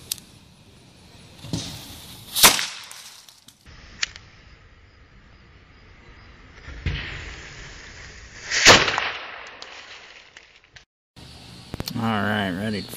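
Small cannon firing .22 and .50 caliber rounds outdoors, with two sharp, loud reports a few seconds apart and a later burst, amid voices talking between shots.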